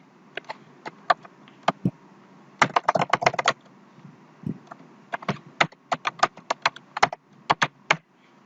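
Fingers type on a computer keyboard in quick irregular bursts of sharp clicks, with short pauses between runs of keystrokes, close and alone without any talking.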